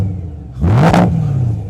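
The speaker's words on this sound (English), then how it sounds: "Let's go ahead and listen to this V8 rev." A BMW M3's 4-liter V8 revs once hard from idle, climbing to a loud, raspy peak before dropping back to a steady idle, close and alone.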